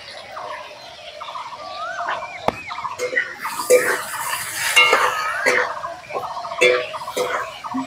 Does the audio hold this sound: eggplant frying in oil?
yes